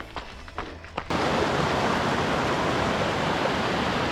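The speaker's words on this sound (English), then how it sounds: "Cool waterfall, cool river here, crossing this bridge." A waterfall and river beside a bridge on a mountain trail roar in as a sudden, loud, steady rush of water that drowns out everything after a few faint footsteps.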